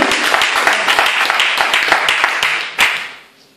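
An evangelical congregation in London applauds loudly, with dense rapid clapping that holds steady for about three seconds, then a final burst before it fades out.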